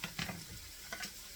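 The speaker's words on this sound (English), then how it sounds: "let's stir that up again" Canned pasta stirred in a pot on the stove, a few soft scraping strokes over a low steady sizzle, close and quiet.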